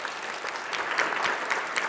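Audience applause at a climate justice talk with Sierra Club Executive Director Michael Brune, steady clapping filling the whole short stretch at a moderate level, no voices standing out.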